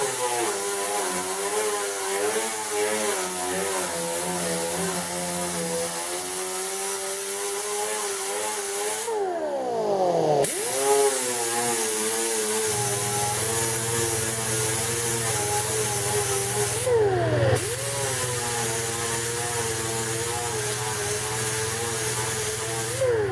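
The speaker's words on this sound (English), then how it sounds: "we're going to grind that out and prepare it for filler and go from there" A grinder works metal dents out of a car tailgate, a sustained loud whining drone that shifts in pitch and cuts out briefly twice before resuming.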